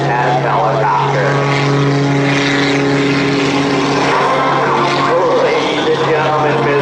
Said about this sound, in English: And he turns his ethanol-powered MXS aircraft into the ethanol-powered MXS helicopter.